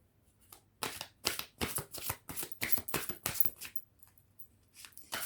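Oracle cards are shuffled and laid out in a string of quick, crisp riffling bursts separated by short pauses, close and fairly quiet with no talking.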